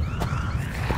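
An alarm wails in an audio drama set during a zombie attack, a loud siren-like tone sweeping steadily through the whole moment over a dense, noisy background.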